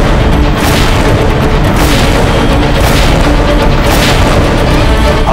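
Cannon bombardment hurling heavy iron and stone balls onto Chittor fort in a historical drama: loud, dense, continuous booming and rumbling with repeated heavy blasts, no speech.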